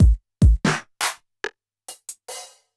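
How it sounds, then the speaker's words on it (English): Yamaha QY70 drum kit voice with chorus and no reverb: a sequence of separate hits, deep kick thumps first, then snare-like cracks and bright hi-hat or cymbal ticks, dry and spaced apart with silence between strikes. "And now a drum sound like this."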